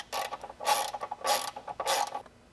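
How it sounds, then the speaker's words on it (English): T25 driver loosening bolts on a BMW 230i, three close bursts of ratcheting clicks in quick succession, quiet with no talk. "With a T25, we will remove 2 bolts from both sides."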